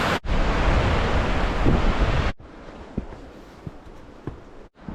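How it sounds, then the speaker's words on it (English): Lake waves breaking on a Michigan shore on a chilly October day, a loud rush of surf and wind noise at first, then a quieter, lapping wash with occasional small splashes. "All those waves, it feels oceany."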